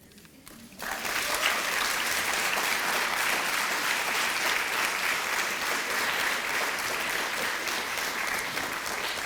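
Loud, steady applause from a large audience at an honors program induction ceremony, bursting in after a brief quiet moment and sustained evenly without pause.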